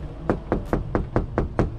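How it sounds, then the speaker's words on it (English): Seven evenly spaced knocks rap on a door, crisp and close, in a steady rhythm with nothing else over them. "knock on the door"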